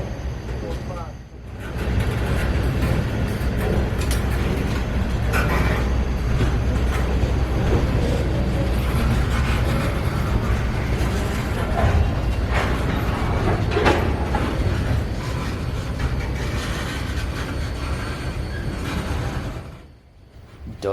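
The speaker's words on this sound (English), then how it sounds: "WO82 would clear the crossing here at Lemon Street and disappear off into the darkness northbound" Freight train WO82 rolls through the Lemon Street crossing at night, a continuous close rumble and clatter of wagons that fades toward the end, with a voice talking over it.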